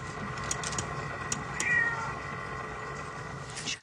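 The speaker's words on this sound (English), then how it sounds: "It's just a cat." A cat in the 1979 film Alien gives a short meow partway through, heard over a steady low hum and background ambience.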